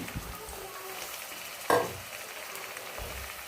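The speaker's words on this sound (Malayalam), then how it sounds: "ചിക്കൻ ചേർത്ത് കൊടുക്കാം" Chicken pieces and chopped onion frying in hot oil in a pan for chilli chicken, a steady low sizzle with a brief louder hiss as the chicken goes in midway, no talking.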